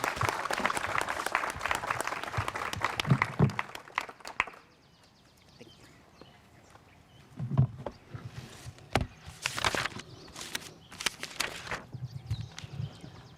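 Audience applause at a Juneteenth program at a historic tannery site, a few seconds of clapping that fades to quiet, followed by scattered sharp claps and knocks later on.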